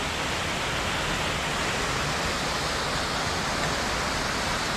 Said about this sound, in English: Coming up to the upper waterfall here.